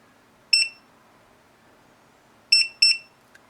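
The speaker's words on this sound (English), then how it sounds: "You'll hear one beep, and then you'll hear another beep." Three short electronic beeps from a Sonoff TX Wi-Fi smart wall switch during pairing: one, then after a pause two in quick succession, clear and sharp against near silence.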